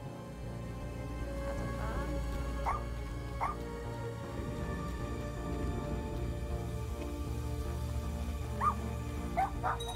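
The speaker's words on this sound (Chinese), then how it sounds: "汪汪汪！" A dog barks in the video game Little Misfortune, several short yips and woofs spaced apart over a steady droning game music bed.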